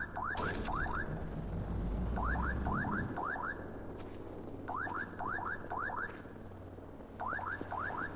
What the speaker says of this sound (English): that's the sound of the drone coming in.